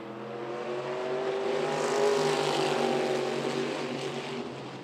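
A race car at Myrtle Beach Speedway roars past under hard throttle, its engine note rising and swelling loudly before fading slightly as it pulls away.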